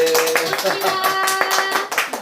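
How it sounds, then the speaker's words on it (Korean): A round of clapping greets two guest teachers at a live education briefing for incoming high-school students, brisk and fairly close, with talk underneath. "그래서 와 계시는데 우리 두 분 박수로 한번 인사들 할까요?"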